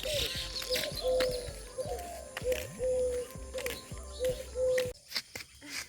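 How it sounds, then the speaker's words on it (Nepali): A pair of pigeons coos in a repeated rhythmic pattern, several soft calls close by, with clicks and background noise between them outdoors in the morning. "यता चराको जोडीहरू पनि देख्न सक्नुहुन्छ"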